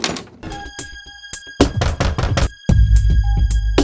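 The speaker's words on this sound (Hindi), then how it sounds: "दरवाजा खटकता हूँ" Knocking on a house door in an Indian TV drama scene after a doorbell fails to work, several loud thuds in irregular bursts against music and background sound.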